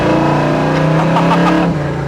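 A 1972 Chevrolet Nova SS engine revs loud and close as it accelerates in first gear, a steady rising roar with no talk.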